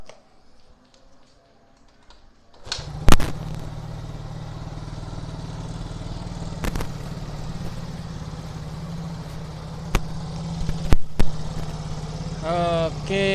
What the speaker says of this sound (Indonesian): Oke, kita nyalakan mesinnya.